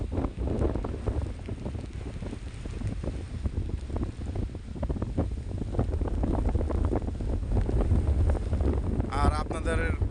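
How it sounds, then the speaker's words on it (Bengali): Strong stormy wind buffets the microphone beside a wide river with low water and distant sandbars, a steady loud roaring rush that fills the whole clip, with a brief burst of another sound near the end. "বৃষ্টি কম, বাতাস বেশি।"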